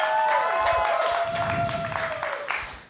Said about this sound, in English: Can we give a round of applause for Josh, everybody?